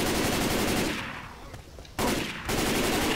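Rapid automatic gunfire in Left 4 Dead 2 bursts loudly, fades briefly, then resumes in two more sharp sustained volleys, dense and close with no talk over it.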